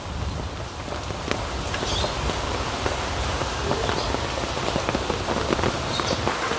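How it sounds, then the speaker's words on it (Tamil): Heavy rain falls on a garden and its plants, a dense, steady patter that stays loud throughout with no voices. "நல்ல மழை இருக்குது, ரெய்னி டே பார்த்தீங்களா"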